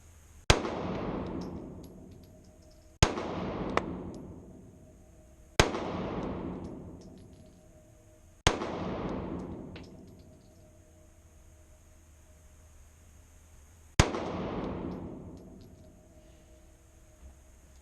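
Five sharp gunshots from an M&P pistol crack at uneven intervals a few seconds apart on an outdoor shooting range, each loud and close with a long fading echo, no voices.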